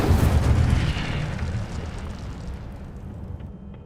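The Incendio fire spell is cast in Hogwarts Legacy, producing a loud, close fiery burst that opens with a strong whooshing blast and roar, then fades into a crackling tail over a few seconds.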